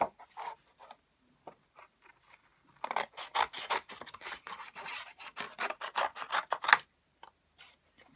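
Scissors snip through excess holographic Christmas card stock in a string of quick, close, crisp cuts, alone and fairly quiet, with light rustling of the card between them.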